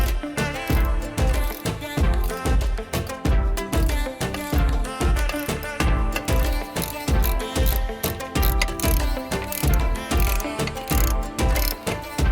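A ratchet wrench tightens bolts on the universal joint of a 2007 Ford Ranger PJ driveshaft, giving rapid, rhythmic clicking strokes repeated over and over, close and loud with no talking.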